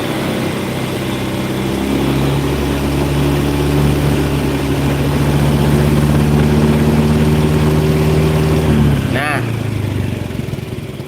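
A Honda Scoopy scooter engine idles steadily and loudly up close, its tone climbing slightly as it revs, then cuts off near the end with a brief clunk. Someone talks over it.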